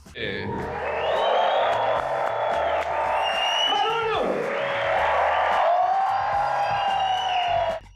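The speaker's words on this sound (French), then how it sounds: "accueillez avec beaucoup de bruit et beaucoup d'applaudissements Alessandro Berli!" A comedy-show crowd roars and cheers to welcome comedian Alessandro Berli onstage, loud whoops and shouting swelling over a music sting, the din sustained for several seconds before cutting off.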